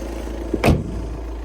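A 2014 Volkswagen Passat B7 Alltrack diesel engine idles with a low, steady rumble, broken by one brief thump midway.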